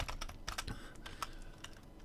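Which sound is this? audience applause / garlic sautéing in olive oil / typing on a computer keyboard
typing on a computer keyboard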